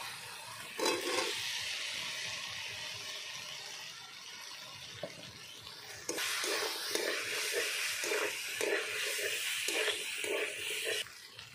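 Fried potatoes tumble into a pan of posto paneer cooked with turmeric, giving a close sizzle and repeated stirring scrapes; the frying grows louder partway through and carries on steadily with rhythmic stirs.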